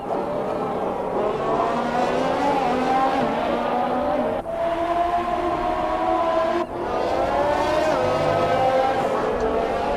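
Formula One cars, including Fernando Alonso's McLaren, run past the hotel section of the circuit with a loud, sustained high-pitched engine whine that shifts in pitch and drops out briefly twice.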